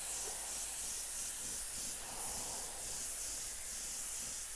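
Airbrush or spray can hissing steadily as paint is sprayed onto a Seat 600 speedometer dial, a continuous close airy spray with slight pulsing and no talk.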